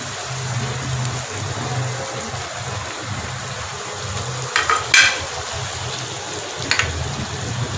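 Goat liver fries in masala in a pan, giving a steady close sizzle throughout, with a few sharp stirring scrapes near the end.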